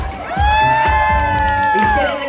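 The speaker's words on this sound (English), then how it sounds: "He's getting the crowd wound up." An audience at a hairy chest contest on the Carnival Splendor cruise ship. The crowd cheers loudly and close by, with a long, sustained whoop from a single voice riding over the clamor for about two seconds.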